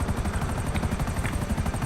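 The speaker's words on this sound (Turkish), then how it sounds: "Aha burada helikopter var zaten." A helicopter in the GTA 5 video game gives a steady, loud rotor chop with a continuous turbine whine, heard close and alone throughout.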